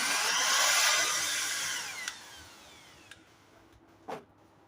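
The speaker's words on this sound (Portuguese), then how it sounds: "Eu venho com a furadeira, com a broca menor e dou uma marcaçãozinha." An electric drill with a small bit whines loudly as it marks a pilot hole for a diesel stove build, winding down after a couple of seconds, followed by a few faint clicks and taps.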